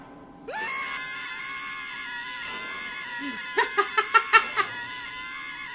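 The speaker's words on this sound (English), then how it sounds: "What an awesome scream." A long, sustained scream rings out in the video game Jenny Le Clue, holding steady for several seconds before breaking into a quick run of rhythmic, laugh-like bursts near the end.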